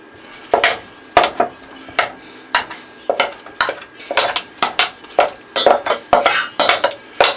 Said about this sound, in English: So now we're just going to go ahead and just kind of tenderize the avocado here.